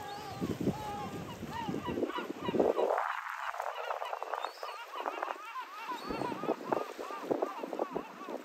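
A flock of seabirds on Tabarca Island, Spain, calls in a continuous overlapping chorus of sharp, repeated cries, loud and close, with wind noise underneath.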